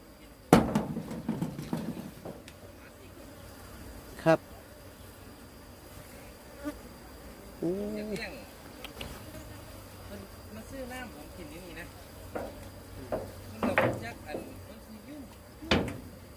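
Wild cavity-nesting bees hum steadily on a house roof while gathering nectar. The buzzing is close and continuous, broken by scattered clicks and knocks, with voices talking faintly now and then.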